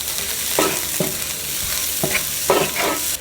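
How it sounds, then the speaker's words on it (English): Onions and the white parts of green onions sauté beside scrambled eggs in a hot pan for chicken and shrimp fried rice: a steady close sizzle broken by about five distinct scraping stir strokes, with no voices. "we are going to let these onions saute down for about 1 to 2 minutes"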